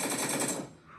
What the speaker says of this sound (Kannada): ಎಲ್ಲ ಆಕಾಶದ ಮೇಲೆ ಬುಲೆಟ್ ಹೊಡಿಯೋಣ